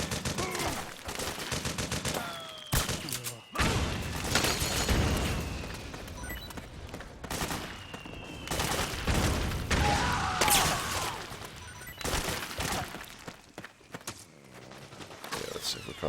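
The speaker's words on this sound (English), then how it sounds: "Just gonna kill the fuck out of all of them with that MG nest." Mounted machine gun nest firing in Metal Gear Solid 4, loud sustained bursts of rapid automatic fire with short gaps, dense battle noise and scattered impacts throughout.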